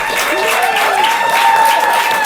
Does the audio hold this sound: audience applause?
yes